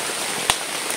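Heavy rain falls at a group campsite, a dense steady hiss with one sharp drop or tap in the middle, close and continuous, with no talk.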